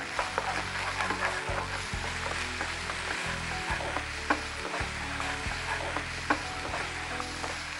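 A pan of cabbage and minced chicken curry with added water bubbles and simmers steadily with soft crackling pops, plus an occasional clink of a utensil against it.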